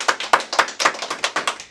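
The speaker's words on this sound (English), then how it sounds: "Round of applause." Studio guests applaud a special guest on a radio show, a short burst of clapping from a few pairs of hands, close and distinct with uneven quick claps and no talk.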